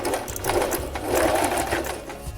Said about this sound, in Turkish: Şurada geri dikiş yapalım.